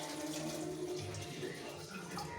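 Water is poured into a cooking pot of dal with coconut, a continuous close splashing trickle that lasts throughout.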